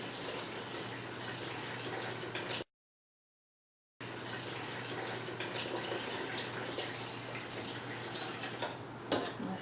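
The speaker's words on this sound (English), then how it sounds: "I'll let it drain out a little bit." Venison broth pours and drains through a strainer in a steady, continuous watery rush. A brief full silence breaks the flow, then the draining resumes until a few small splashes and clinks near the end.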